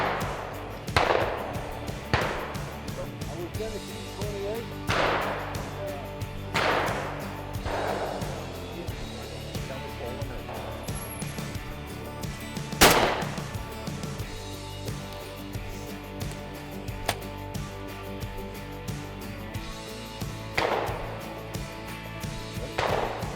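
Shotguns fire at a friendly sporting clay shooting competition at a sportsman's club in Missouri, sharp loud single blasts spaced several seconds apart over background murmur and movement.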